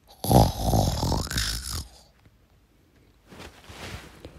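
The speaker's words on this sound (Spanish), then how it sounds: "Poco después dormía, lanzando unos ronquidos que demostraban, por lo vigorosos, la robustez de sus pulmones" A sleeping man snores vigorously, one or two loud, deep rasping snores up close, then a quiet pause and a fainter breathy follow-up.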